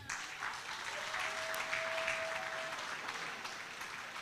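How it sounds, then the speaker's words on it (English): Audience applause fills an awards ceremony at a hotel venue, a steady dense wash of clapping from a crowd that holds at even loudness for the whole stretch with no talk over it. "Can we clap for the Chief Justice Emeritus?"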